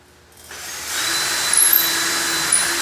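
A power drill spins up and runs steadily as it bores into the frame of a jewellery display case, close and loud, with a faint whine above the grinding whir.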